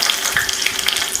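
Shallots and curry leaves frying in hot oil after mustard seeds have spluttered, for an ash gourd buttermilk curry: a steady, close sizzle with small crackles and pops throughout, no voices.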